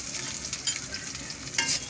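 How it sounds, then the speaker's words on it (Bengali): Onion, dried chili and garlic fry in hot oil in a wok, a steady close sizzle with brief louder crackling bursts, no talking. "কড়াইটা গরম হলে গরম তেলের মধ্যে পেঁয়াজটি ছাট করে ছাড়ে দিবেন"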